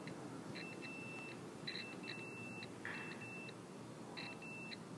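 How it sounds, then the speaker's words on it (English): A multimeter on its continuity setting gives several short, faint electronic beeps while its probes touch the prongs of a refrigeration compressor, heard against a quiet room hiss. "Now with our meter on a continuity setting, I can test continuity on all three of the prongs"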